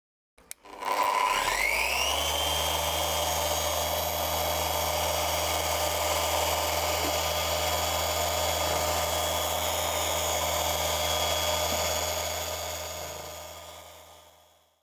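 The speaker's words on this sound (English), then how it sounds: "Polishing is done with a polisher. I use this one. We apply polish to the disc, and I use this polish. I set it to the maximum speed" A polisher runs at maximum speed on spray-painted paint with a polish-loaded disc, spinning up quickly to a steady, high-pitched whine that holds evenly for over ten seconds before winding down, close and alone.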